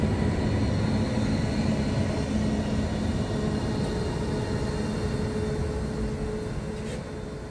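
A Northern class 331 electric train, running Manchester Airport to Blackpool North, rumbles past at steady close range, a continuous broadband roar and drone that slowly fades toward the end, with no voices.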